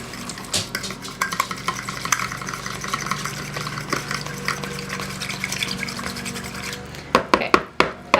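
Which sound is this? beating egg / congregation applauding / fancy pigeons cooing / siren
beating egg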